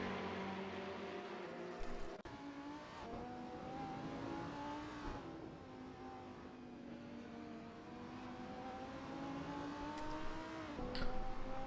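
Audi and Lamborghini GT3 race cars at Okayama circuit, engines droning loudly and steadily with rising and falling pitch as they accelerate and shift, a sharp gear change cutting in partway through.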